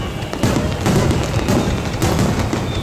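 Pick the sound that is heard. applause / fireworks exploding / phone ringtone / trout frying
fireworks exploding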